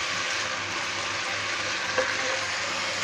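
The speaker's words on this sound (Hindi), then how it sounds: "इसे अच्छे से पेस्ट को भूनते हैं" Tomato paste frying in a pan over a high flame, a steady close sizzle with faint stirring and no talk.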